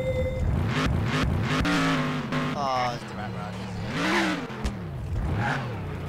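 A vehicle engine revving in a Garry's Mod drag race, rising and falling in repeated surges with a tonal whine, heard under people talking throughout.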